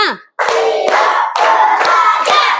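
Classroom cheer clapping, a burst of many hands striking together in a steady repeated rhythm, loud and near, opening with a short vocal shout before the claps.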